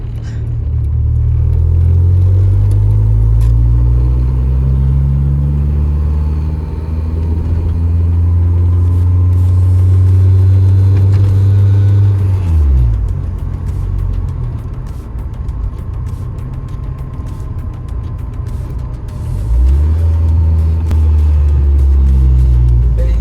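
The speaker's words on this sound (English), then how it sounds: "we are finally taking the Honda for a drive" Honda EK Civic with a K-series engine swap, driven with a steady loud engine drone that rises in pitch through the gears, drops briefly as the revs fall, then builds again.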